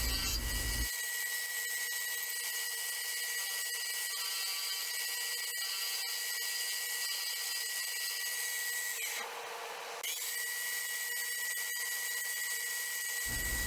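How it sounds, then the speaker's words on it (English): A carbon fiber ring on a mandrel is sanded with 80 grit sandpaper, giving a continuous, even abrasive hiss that shifts briefly about two-thirds of the way through, no one speaking. "It was really easy here to shape the ring just with using some 80 grit sandpaper and then sanding it smooth"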